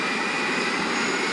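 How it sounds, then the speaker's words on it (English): A loud, steady airplane engine roar fills the whole stretch, a dense, unbroken wash of noise with no voices. "his voice is barely a squeak above the plane's roar"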